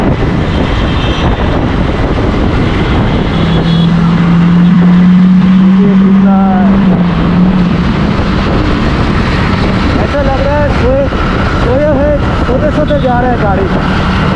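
A Lamborghini speeds along a road beside a motorbike rider, its engine roaring loud and sustained under heavy wind buffeting, while people talk over the noise.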